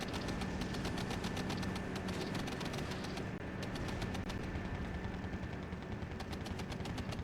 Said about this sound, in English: We can hear my aft tracks are shooting at the infantry over here